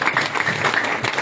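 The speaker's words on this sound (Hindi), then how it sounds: "खड़े हो जाओ, उनके लिए भी ताली बजा दो।" Applause from a crowd at a Hindustan Shakti Sena political gathering, dense steady clapping filling the whole short stretch with no pauses.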